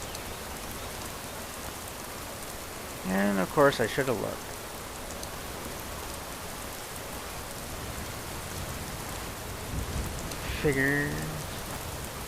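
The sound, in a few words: rain falling in video game Skyrim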